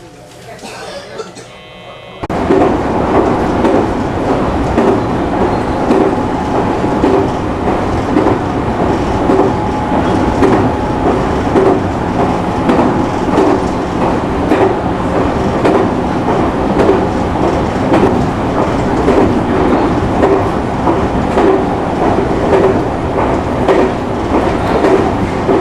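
A JR train runs along the rails near a small home restaurant in Nara, Japan, its steady loud rumble and rhythmic clatter of wheels filling the whole stretch after a brief quieter opening, with faint voices beneath.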